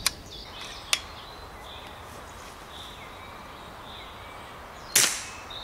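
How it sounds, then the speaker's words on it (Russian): An FX Crown PCP air rifle fired into a chronograph: one sharp, loud report near the end, with two lighter clicks earlier over a steady hiss of room noise. "Сейчас выстрелим в хронограф."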